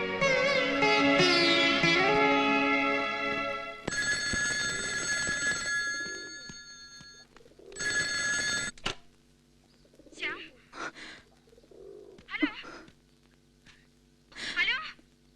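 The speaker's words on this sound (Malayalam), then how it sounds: "Call for Shyam." A telephone rings loudly in a Malayalam film scene, with repeated bursts of electronic ringing, then people talk with other short sounds between.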